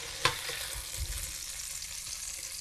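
French toast sizzles in a hot frying pan, a steady close crackling hiss with a brief sharper pop near the start, no talking.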